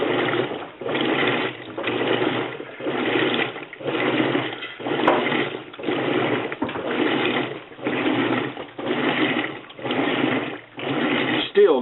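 A faulty washing machine holding about four inches of water with clothes that never rotate, giving a steady mechanical churning hum that pulses in regular cycles roughly every second, loud and continuous throughout.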